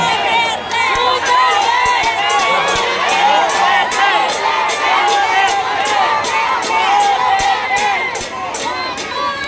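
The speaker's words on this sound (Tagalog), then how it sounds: "Ang sigaw ng mga tao ay Duterte." A large crowd at a political rally in Manila chants and cheers in rhythmic, repeated shouts of a candidate's name, loud and continuous, with sharp claps and whistles cutting through.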